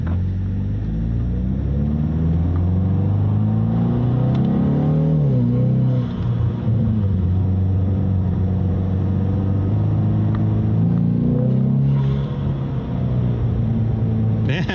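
An EcoBoost Ford Mustang engine runs steadily up close, a deep rumbling drone that swells slightly a couple of times, with faint background noises.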